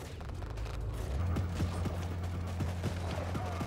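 Gunfire from a sniper tower in the military strategy game WARPIPS, a series of sharp shots spaced irregularly over a low continuous rumble of battle.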